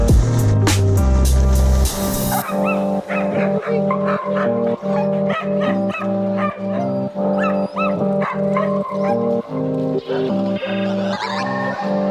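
Many sled dogs bark and yip excitedly in a constant, overlapping chorus, close and loud, with rapid repeated bursts throughout.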